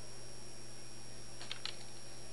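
A couple of quick computer keyboard keystrokes, ending in a press of the enter key, sound as soft clicks over a steady electronic hum.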